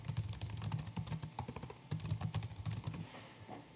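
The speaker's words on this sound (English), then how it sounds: "He'd type in his name," Fingers type on a computer keyboard in quick, close bursts of clicking, with a brief pause before the keystrokes thin out at the end.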